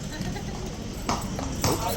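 Horse hooves clip-clop on pavement near a guard, two distinct clops heard faintly under talking voices.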